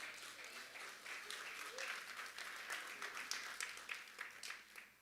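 Applause from a church congregation during a worship service, a steady wash of many hands clapping at moderate loudness that swells and holds throughout, with a voice or two faintly mixed in.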